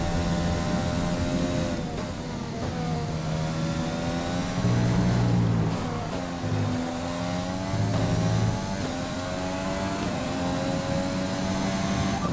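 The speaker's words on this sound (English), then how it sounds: "Listen to those RPMs as that engine purrs." Formula 1 car engine in the F1 2020 racing game at the Austrian circuit, a loud high-pitched whine rising and falling through gear shifts and repeated revs, continuous with no talking.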